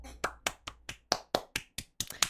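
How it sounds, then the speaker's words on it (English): Hand claps, about eleven sharp, dry slaps in a fairly even rhythm over two seconds, close and alone with no voices. "Can we clap?"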